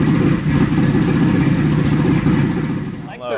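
A heavily modified Toyota MR2 four-cylinder built to 1,106 wheel horsepower idles loud and close at low rpm with a choppy, lumpy pulse that eases slightly toward the end, where a voice briefly cuts in.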